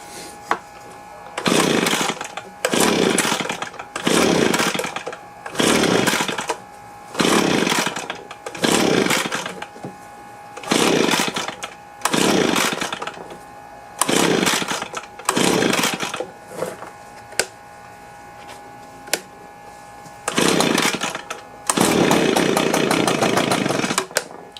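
An old two-stroke leaf blower engine revving in repeated bursts, about a dozen loud surges with brief dips between them, then a longer steady run near the end, close up with no talk.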